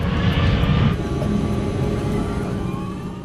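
An Airbus A380 with four Rolls-Royce engines gives a steady, loud engine roar and whine, heavier in the first second before settling into a continuous drone, with no talking.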